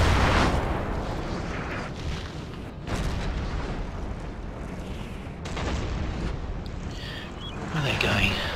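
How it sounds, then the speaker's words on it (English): Napoleonic artillery firing in Napoleon: Total War, with booming cannon blasts and rumbling bursts spread through a noisy battlefield din, some loud and some farther off. "Oh, artillery's going in now."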